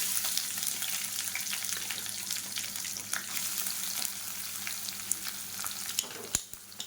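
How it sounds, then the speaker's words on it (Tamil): Onions sautéing in a pan with dried red chillies and curry leaves for vendakkai pachadi, a continuous close hiss with light stirring and a couple of sharper clicks near the end. "வெங்காயம் லேசாக வதங்கட்டும்"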